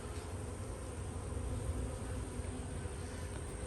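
Honeybees in a screened, enclosed apiary hive give off a steady, dense buzzing hum that holds at an even level throughout, close by, with no talk over it.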